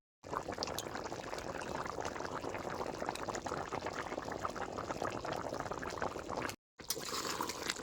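New potatoes go into a meat curry bubbling in a pot in a village kitchen, giving a steady loud wash of boiling, pouring liquid that breaks off briefly near the end and then resumes.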